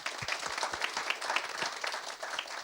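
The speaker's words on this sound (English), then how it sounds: "So maybe we can give an applause." Audience applause at a national information session on transport research under Horizon 2020, following a presentation: a steady, dense wash of many hands clapping through the whole stretch, moderately loud and without talk.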